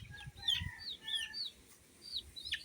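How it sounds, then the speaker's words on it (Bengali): Chickens clucking in a rural village yard, a few short clucks and chirps repeating near and moderately loud over low background rumble. "এই যে মুরগিগুলো"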